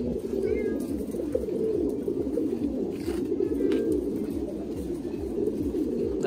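Trumpeter pigeons at a Thai Titan breeding loft give a steady stream of low, rolling coos and drumming calls, close and continuous, with faint higher chirps from other birds over the din.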